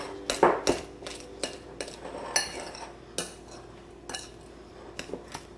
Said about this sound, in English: You want to mix this together.